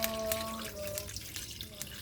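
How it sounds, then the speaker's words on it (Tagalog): Water is poured into a pan of sautéed seashells, making a quiet, short splashing trickle over a faint background hum. "Lagyan na natin yung tubig."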